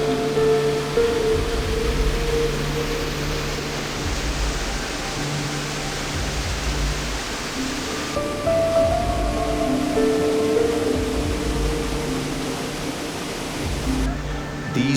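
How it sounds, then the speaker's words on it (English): A steady broadband rush of falling water from a small waterfall pouring over a dam spillway, continuous and fairly loud throughout. "As a result, beautiful small waterfall appear."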